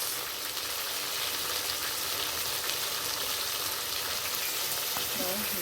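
Steady, loud sizzling and crackling of spices with turmeric powder frying in hot oil fills the whole clip with little variation. No talking is heard.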